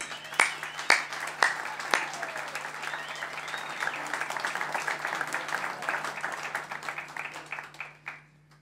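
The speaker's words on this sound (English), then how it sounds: "who really people deserves a round of applause" An audience at a music lecture applauds, starting with a few sharp separate claps that build into steady, moderately close clapping before tapering off to a few last claps.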